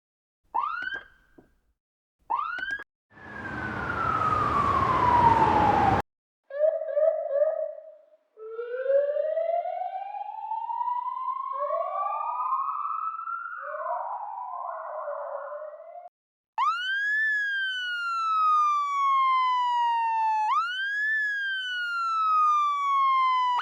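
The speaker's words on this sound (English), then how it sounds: "let's just go to our assembly and look for a police siren" A sequence of siren sound effects auditioned for a motorcycle chase scene: short bursts, a falling sweep, warbling wails and finally rising-and-falling police sirens, loud and isolated with gaps between them.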